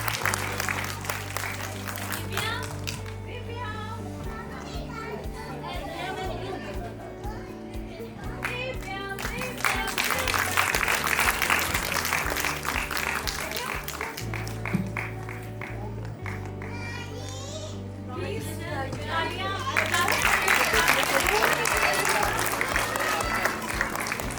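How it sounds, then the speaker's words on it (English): An audience at a children's inclusion walk event applauds a tie for third place, with a sustained wave of clapping that swells and fades over steady background music, and voices mixed in. "Big cheer for them."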